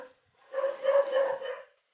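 A dog lets out a short, angry burst of growling barks lasting about a second, close by and loud against an otherwise quiet outdoor setting on a farm.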